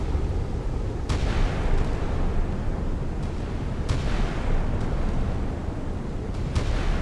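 A Chinese naval gun fires in the naval warfare game Sea Power, sharp reports spaced a few seconds apart over a continuous roaring background of battle noise.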